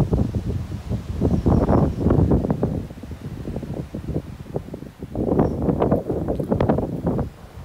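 A warm breeze at a wild camping spot during an overnight bikepacking trip on a hot day, rumbling and buffeting against the microphone in uneven gusts that rise and fall, with no voices.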